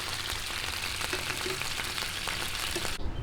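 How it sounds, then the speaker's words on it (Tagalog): Pork ribs fry vigorously in hot oil, a dense, steady, close sizzle and crackle that runs throughout and cuts off abruptly near the end. "tapusin lang po nating maprito lahat"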